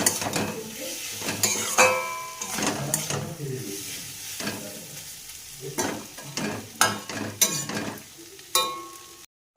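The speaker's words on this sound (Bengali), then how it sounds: "সমস্ত কিছুকে একসাথে ভালো করে মিক্স করে নেব" A spoon stirs and mixes Maggi noodle masala in a frying pan, with repeated metallic scrapes and clinks against the pan over a steady sizzle, close and fairly loud.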